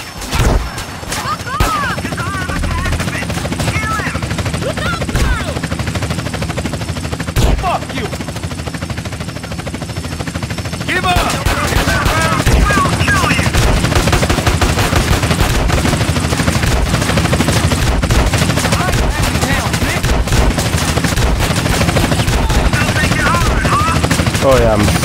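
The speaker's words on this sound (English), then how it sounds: "I can't see who's shooting me." Sustained gunfire in Grand Theft Auto San Andreas Remastered on PC, dense bursts of automatic shots growing louder and more continuous after the first few seconds, with booming hits mixed in.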